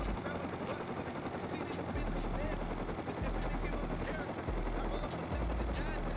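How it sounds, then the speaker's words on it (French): A helicopter in the video game Rust gives off a steady, loud rotor drone and rumble across the whole stretch, with people talking over it throughout. "tu ramènes un hélico"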